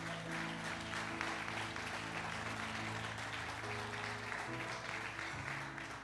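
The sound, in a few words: audience applauding in church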